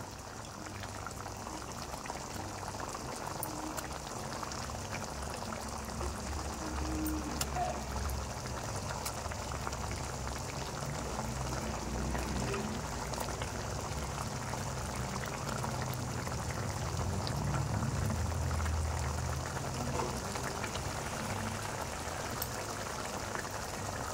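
A pan of egg paniyaram gravy with coconut milk comes to a rolling boil, a constant, close bubbling and gurgling that holds steady for the whole stretch with no one speaking.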